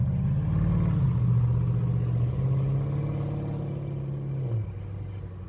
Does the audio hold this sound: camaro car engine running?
yes